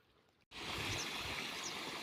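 Irrigation water for a maize field starts suddenly and then flows in a steady, loud rush close by, with no voices.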